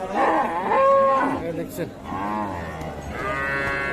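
A calf at a rural cattle market gives several loud, close, drawn-out moos in succession, with a brief spoken word among them.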